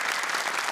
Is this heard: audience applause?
yes